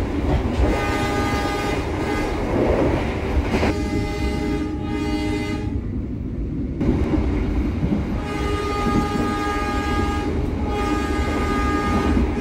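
Train horn sounding repeatedly in loud sustained blasts from a Logawa business-class train on a single-track section between Wonokromo and Mojokerto, over constant rumble and wheel noise of the moving carriage.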